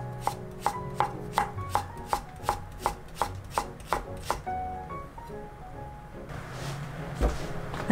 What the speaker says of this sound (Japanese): 長ネギ1/2本は斜め薄切りにします